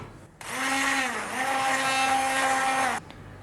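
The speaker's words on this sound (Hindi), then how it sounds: "अच्छी तरह से तमाम चीज़ों को मिलाने के बाद हम इसे ब्लेंडर से थोड़ा ब्लेंड कर लेंगे।" A blender blending crepe batter whirs steadily for about two and a half seconds, a loud motor hum with a brief dip in pitch, then cuts off.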